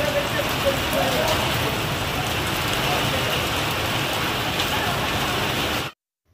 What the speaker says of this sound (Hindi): तो आपने देखा कितनी तेज बारिश हुई है